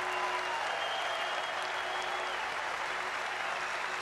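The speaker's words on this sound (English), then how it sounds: "And there it is, greeted by a triumphant cheer." Crowd at the 2001 Sri Lanka vs England third Test cricket match in Colombo breaks into applause and cheering, a steady broad roar lasting several seconds with no one talking.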